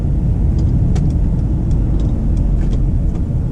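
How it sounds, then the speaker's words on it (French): A Mercedes C-Class 300 with a turbo engine gives a steady, loud drone from inside the car as it accelerates gently, with no talking. "regardez quand je caresse la pédale d'accélération. En plus avec une belle sonorité pour un moteur turbo."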